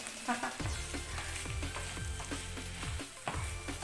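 Frying in a pan while preparing a pastilla filling, a steady close sizzle and crackle with occasional stirring clunks of a utensil against the pan, no voices.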